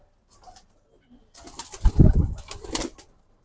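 An adult pair of Military breed pigeons gives soft coos followed by a louder close burst of cooing and wing flutter, fading to quiet at the end.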